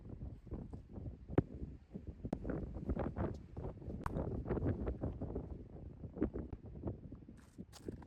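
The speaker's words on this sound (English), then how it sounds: "I didn't realize just actually how intense the wind is here" Strong, steady wind buffets the microphone at Hawaii Volcanoes National Park, a continuous low rumbling roar with gusty surges, loud and close, with no talking.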